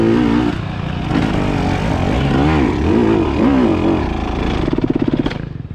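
A KTM 250XCW dirt bike engine revs hard on a rough trail at Kairos Resort, its pitch rising and falling in repeated surges, loud and close, then briefly sputtering near the end.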